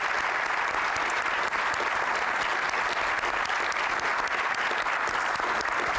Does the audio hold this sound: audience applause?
yes